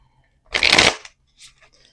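Quick riffle of tarot cards being shuffled, a single loud papery burst up close, followed by a faint soft flick of cards.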